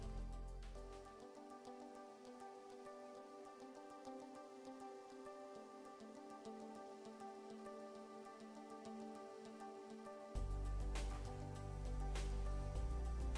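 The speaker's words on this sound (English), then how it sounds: "add 2 to 3 spoons of ghee. Add chopped paneer pieces. Fry until brown." Chopped paneer pieces frying in a few spoons of ghee in a pan make a faint, steady crackling sizzle that holds throughout, with a brief louder stretch near the end.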